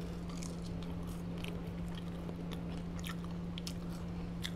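Someone chews Raising Cane's fries close to the mic, soft wet bites and mastication repeating steadily over a constant low electrical hum, with no talking.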